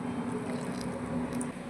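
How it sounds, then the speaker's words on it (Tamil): Wheat flour dough for chapati being kneaded by hand, soft squishy, sticky squelching pressed out in a steady run of close, quiet strokes with no talking. "சப்பாத்தி மாவு பதத்துக்கு நல்லா பிசைஞ்சு எடுத்துக்கலாம்."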